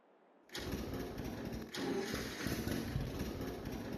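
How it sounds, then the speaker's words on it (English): A John Deere Model A tractor engine cranks over in Farming Simulator 22. After a moment of quiet, a steady, rough mechanical churning starts suddenly and keeps going, close and fairly loud, with a brief dip partway through. "let's see if we can get this thing to crank over at all"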